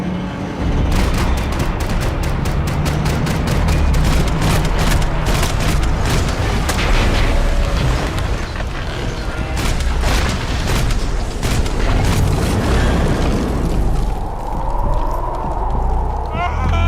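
Dense gunfire and explosions from the video game Max Payne 3, a loud continuous barrage of shots and booms with shouting voices mixed into the chaotic combat noise.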